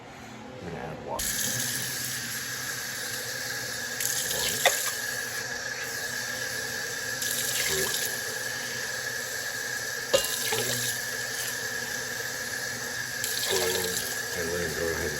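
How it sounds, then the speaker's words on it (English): A kitchen tap runs water into a soup pot, a steady rushing stream with a few clunks and knocks from the pot, continuing for a long stretch without talk. "And now we're gonna add water."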